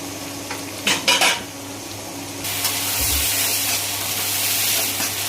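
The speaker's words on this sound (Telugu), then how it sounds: "ఉప్పు సరిపడా మూత పెట్టేసుకుందాం" Metal clatter of a lid going onto a pan of frying prawns with tomato, two sharp clanks near the start followed by a steady sizzle under low kitchen hum.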